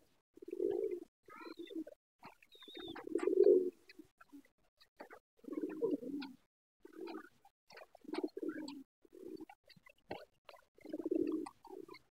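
Pigeons on a pigeon farm coo in a series of low, soft, throaty bursts spaced a second or two apart, fairly close and with no talk over them.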